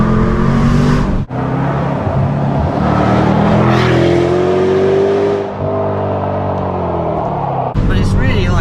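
A Range Rover Sport SVR with a stainless steel exhaust revving and accelerating, loud rising engine roar with a gear change and a brief cut, heard close and under a voice speaking.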